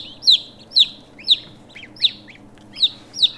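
Newly shipped ducklings and goslings peep in a steady series of high, sharp calls, about two per second, close by over a faint low hum of a warming setup.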